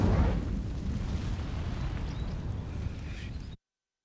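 An Incendio fire spell sets dry vines alight in Hogwarts Legacy, with a loud whooshing burst at the start that settles into a steady crackling roar and then cuts off abruptly.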